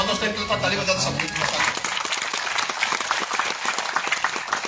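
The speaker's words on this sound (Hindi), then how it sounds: "इनके साथ ताली बजा दो सबकी।" An audience bursts into applause, rising from talk into a dense patter of many hands clapping that carries on steadily to the end.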